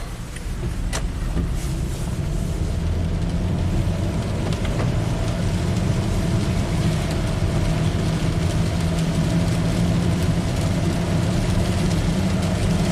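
A Toyota car with a U760E automatic transmission accelerating from 0 to 60, heard from inside as a steady, loud low engine drone with road rumble and no clear shift breaks.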